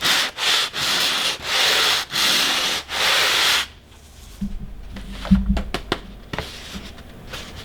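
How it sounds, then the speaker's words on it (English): Sanding the foam board center section of an FT Versa Wing, loud rhythmic rasping strokes repeat about six times at close range, then stop, followed by quieter light tapping and handling noises. "After you're done sanding your center section"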